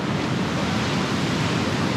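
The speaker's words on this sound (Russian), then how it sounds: "Здесь океанчик." Ocean surf on the San Francisco coast, a steady broadband wash of breaking waves mixed with wind, loud and continuous with no one speaking.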